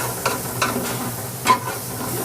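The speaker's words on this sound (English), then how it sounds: "I will burn the garlic for a little bit." Garlic frying in a pan for chicken long rice, a low steady sizzle with a few soft stirring scrapes and one sharper clatter midway.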